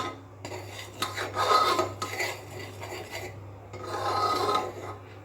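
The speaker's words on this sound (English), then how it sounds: "So after 4 minutes, we have to add this milk powder. And mix it nicely." Spoon stirring milk powder into rice kheer inside a pressure cooker, repeated rasping scrapes against the metal pot in uneven strokes, fairly quiet with short pauses between bursts.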